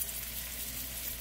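Turkey and ground beef burger patties sizzle steadily in a pan, a soft continuous crackling hiss, fairly faint and unbroken.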